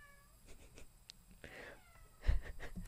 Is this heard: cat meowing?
yes